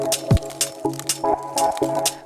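Sparkling water is poured over muddled berries in a glass, giving a series of short crackling fizzes and small clinks in an uneven rhythm, close and fairly loud with no talk.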